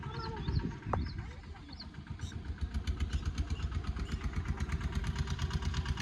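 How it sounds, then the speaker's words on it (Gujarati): A tractor arrives on a farm at sowing time, its engine chugging in a steady mid-pitched idle, rhythmic and fairly close, while people talk over it at first. "તો ટ્રેક્ટર આવી ગયું"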